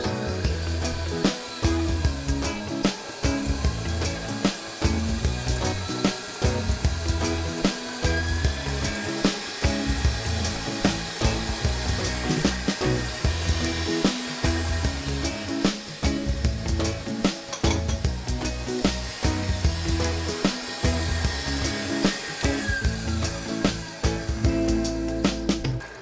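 An electric mixer beats chocolate mousse cake batter as sugar is gradually added, a loud continuous whirring drone with steady rhythmic pulsing and clatter against the bowl throughout.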